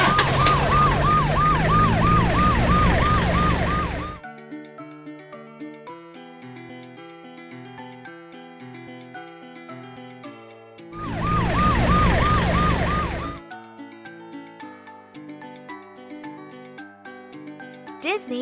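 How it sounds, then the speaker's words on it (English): A wailing ambulance siren rises and falls in two loud bursts, separated by a stretch of soft background music. "Ambulance."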